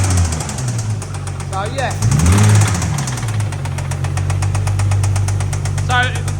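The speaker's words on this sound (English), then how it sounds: "we definitely think it's either a lifter or it's a cam, obviously hitting a piston." A Nissan 350Z engine idles with a rhythmic mechanical knock, suspected to come from a lifter or cam striking a piston, steady and close throughout, with someone speaking briefly over it.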